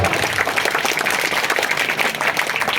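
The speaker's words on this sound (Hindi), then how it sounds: "इन तमाम के लिए जोरदार तालियां बजाइए।" Audience applause at a ghazal singing and poetry quiz event in Murud, a dense, steady wash of clapping from a crowd, loud and continuous throughout with no talk over it.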